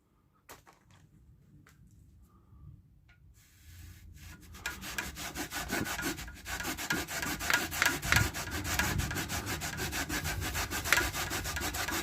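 Rust being rubbed off a part of a Raleigh Chopper Mk2 bicycle during a clean-up: quiet scattered handling at first, then a steady, close, gritty scraping and rubbing that continues in fast repeated strokes.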